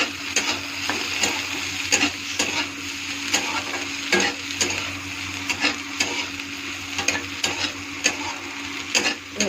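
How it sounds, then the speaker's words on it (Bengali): Coriander leaves are stirred into a sizzling dish in a pan, the spatula tapping and scraping against the metal in quick repeated strokes over a constant frying hiss, close and with no voices. "আমি এখন এর মধ্যে অল্প ধনে পাতা দিয়ে দেবো। সুন্দর করে নেড়ে চেড়ে নেব।"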